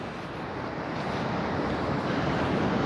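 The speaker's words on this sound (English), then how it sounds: "you can probably hear the waves a little bit." Ocean waves at a calm beach give a steady, soft rushing wash with no distinct surges, mixed with light wind noise.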